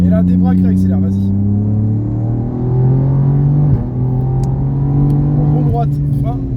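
A car on the Mireval race track accelerates hard in-cabin, loud engine tone rising through the revs with a gear change dip midway, while an instructor talks over it.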